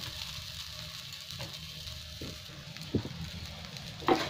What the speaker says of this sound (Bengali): এবার আমি একটা একটা করে ভেজে নেবো গোল গোল করে। অল্প তেল দিয়েছি ফ্রাই প্যানে